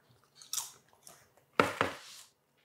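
Homemade plantain chips with barbecue seasoning being crunched, two quiet bites followed by two sharper, louder crunches close up in an otherwise silent room.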